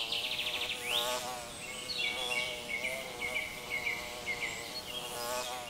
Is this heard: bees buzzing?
yes